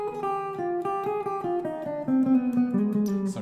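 A jazz guitar plays a descending run of the Mixolydian flat 2 flat 6 scale, clean single notes in a steady rhythm, close and alone.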